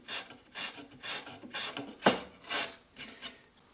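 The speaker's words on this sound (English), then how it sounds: "I'm stripping finish, not trying to do the final" Rhythmic rasping strokes scrape old finish off wood, about eight back-and-forth passes in quick succession, close and fairly quiet, with no talking.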